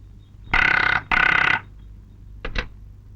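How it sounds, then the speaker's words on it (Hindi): An office telephone rings loud and close in two long bursts, then gives a shorter, softer ring, with nothing else over a quiet room. "ठकराल, ऑफिस तुम्हारे लिए फोन है।"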